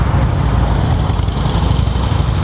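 Harley-Davidson Fatboy FLSTF motorcycle engine idling close by, a loud, steady low-pitched rumble with a lumpy, pulsing beat throughout, no speech.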